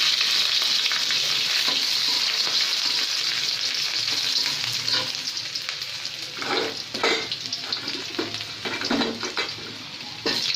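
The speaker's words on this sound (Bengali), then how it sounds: "এবার আমি কিছু গোটা রসুন দিয়ে দিচ্ছি" Whole garlic cloves with cardamom, cinnamon, black pepper and cloves fry in hot oil for a mutton curry, a loud, dense, steady sizzle throughout with occasional stirring scrapes and bubbling crackles in the second half.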